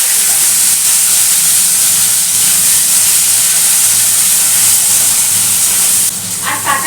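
Raw tomatoes hit hot oil tempered with dried chilli and mustard, giving a loud, steady broadband sizzle and hiss throughout, easing slightly near the end.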